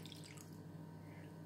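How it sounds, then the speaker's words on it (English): Water pours steadily into a plastic container, a faint, continuous trickling wash that lasts the whole moment with no talk over it. "pour the water inside that container"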